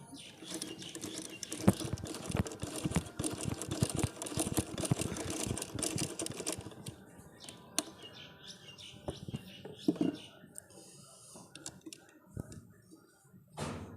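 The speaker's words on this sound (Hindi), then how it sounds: "ये मैं सिलाई लगा रहा हूँ। ये देखें नीचे से ये टांका इस तरह से आ रहा है।" A sewing machine with a bottom-stitching fault runs in a fast, dense clatter of needle strokes for several seconds, then slows to scattered lighter ticks and knocks, heard close up.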